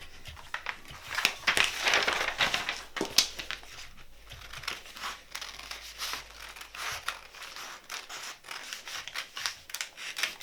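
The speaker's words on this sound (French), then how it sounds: "Donc je vais découper là sur les côtés." Scissors snipping through a piece of fabric along its sides, a run of crisp, close cutting and crinkling sounds repeating in short bursts with no speech.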